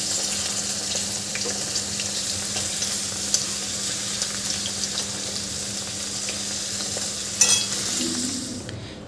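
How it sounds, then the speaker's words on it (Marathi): Okra sizzles and fries steadily in a hot pan, a loud continuous crackle holding throughout with a brief clatter near the end. "आपण भेंड्या छान फ्राय करून घेतलेले आहे."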